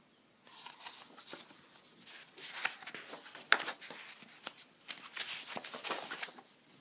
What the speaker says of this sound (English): I get this page turned.